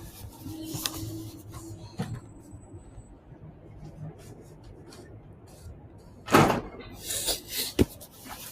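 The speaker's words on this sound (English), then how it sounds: "let me close the door real quick" A door pushed shut indoors gives one sharp, fairly loud knock about two thirds of the way through, after quieter room noise and small bumps.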